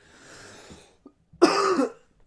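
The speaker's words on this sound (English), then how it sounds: "Sorry, I coughed." One sharp, loud cough after a brief soft breathy lead-in, heard close and alone with quiet around it.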